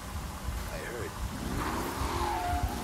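Car accelerating in the video game Mafia 1 Definitive Edition, a mid-pitched engine rising in revs over a few seconds, partly under someone speaking excitedly.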